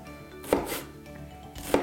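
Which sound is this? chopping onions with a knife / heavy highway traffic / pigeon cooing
chopping onions with a knife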